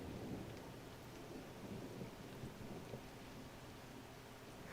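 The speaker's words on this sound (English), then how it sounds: "The thunder, like if I was trying to sleep to this rain and that thunder came on, I would just like jump off the bed probably." Rain falls steadily in The Sims 4, a dense hiss with a low rumble of thunder rolling underneath, constant and fairly soft, with no voices.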